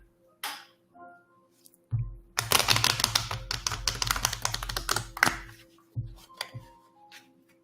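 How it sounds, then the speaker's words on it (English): Playing cards shuffled during a psychic reading, a few soft taps and then a dense burst of rapid riffling that lasts about three seconds, followed by scattered card snaps in a quiet room. "Shuffling again."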